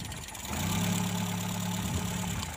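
A car engine idles steadily during a spark plug check, a close, low, even rumble with a slightly rough, uneven note.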